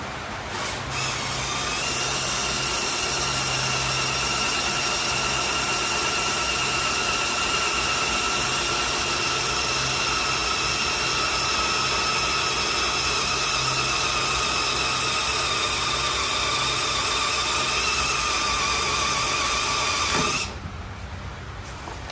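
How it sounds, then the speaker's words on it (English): A power drill whines steadily for about twenty seconds while removing nails from a wooden pallet, a loud continuous motor tone with bright harmonics that cuts off abruptly near the end. "Get the drill, get it in that little hole, keep it centred, it says."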